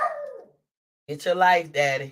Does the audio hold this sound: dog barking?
yes